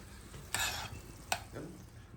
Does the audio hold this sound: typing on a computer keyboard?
no